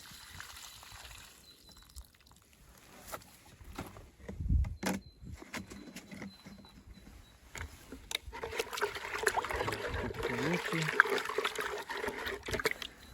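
A battery-powered sprayer hisses as it mists Bordeaux mixture over apricot trees outdoors, the spray building to a steady rush in the second half with soft trickling and some handling noise.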